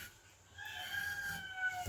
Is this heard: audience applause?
no